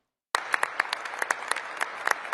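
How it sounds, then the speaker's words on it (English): Audience applause after a Trump speech at a political event, a scattered patch of clapping with sharp individual claps standing out, fairly faint and distant, starting abruptly and continuing steadily. "everyone's clapping like, oh, dude, Trump, put him on Mount Rushmore"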